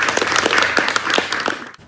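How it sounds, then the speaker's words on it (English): Audience applause at a LEGO building competition, a short burst of clapping from a small crowd that fades out at the end. "All right, round of applause."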